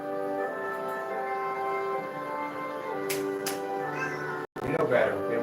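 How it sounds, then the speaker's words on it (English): A cat named Mr. Hollywood meows insistently at home, several drawn-out, close meows over a steady background hum, with a voice talking around them. "That's my cat, Mr. Hollywood, arguing with me because he wants to be near the screen."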